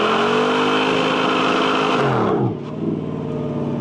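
A 1967 Chevelle SS with a 427 big block V8 roars at high, sustained revs from a stuck gas pedal, loud and close, then the pitch drops sharply as the engine winds down to a lower rumble.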